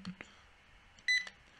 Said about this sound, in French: Vous ne voyez pas mon lecteur, mais vous entendez le bip.